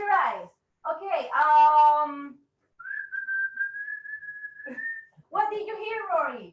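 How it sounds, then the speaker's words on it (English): A single sustained whistled note, clear and close, held for a couple of seconds between stretches of someone talking. "I heard whistling."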